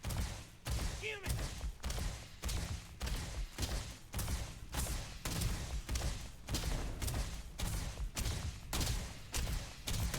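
Rapid bursts of gunfire in Starfield, repeated sharp shots in an irregular rhythm, loud and close, with someone talking in between.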